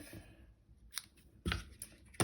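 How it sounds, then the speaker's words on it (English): Scissors snip sharply through ribbon in a few quick, close cuts, with brief crisp bursts separated by quiet pauses. "we're going to take our scissors and cut this off"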